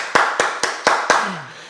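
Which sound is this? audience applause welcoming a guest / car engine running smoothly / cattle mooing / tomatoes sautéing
audience applause welcoming a guest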